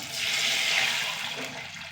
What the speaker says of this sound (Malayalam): നമ്മൾ പുളിവെള്ളം ഒഴിച്ച് കൊടുക്കാം